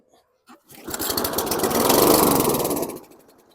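A junk Toro or Bolens lawn mower engine sputters to life after a couple of brief coughs, then runs steadily with a buzzing roar that swells and fades, close by.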